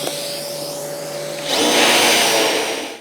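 Drill boring holes through a board held in a UJK Parf guide system, a steady close whine that rises and intensifies partway through as the bit cuts.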